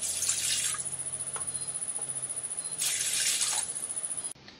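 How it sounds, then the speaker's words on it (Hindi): Water from a tap pours into a metal pot with a close, steady rushing splash that swells and eases in two bursts before stopping, with a faint high whine in the background. "अब हम एक भगोने में 2 गिलास पानी गर्म होने रखेंगे।"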